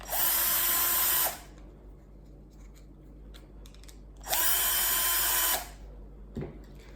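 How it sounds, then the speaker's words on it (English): A power driver runs 13mm screws into a brush socket on a Gardiner brush: two steady, high whirring bursts of about a second each with a short pause between, close and loud, then a small click. "Screw them in fully on the socket."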